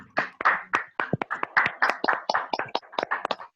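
An audience applauds Shitla Prasad with clapping, a cluster of distinct close hand claps in an irregular rhythm, moderately loud and with no talk over it.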